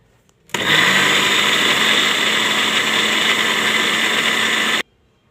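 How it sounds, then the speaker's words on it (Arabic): A blender grinds peanuts and sesame with a little oil into tahini, starting abruptly with a loud, steady roaring whir held for about four seconds before cutting off sharply. "ونشغل الخلاط."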